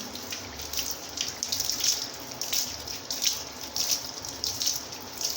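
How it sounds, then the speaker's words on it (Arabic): Tap water runs steadily into a repaired fiberglass bathtub and toward its drain, a soft continuous trickle and splash heard up close with no talking. "الميه بتجري على فتحه الصرف على طول، والميول ممتازه، مفيش ميه بتقف خالص"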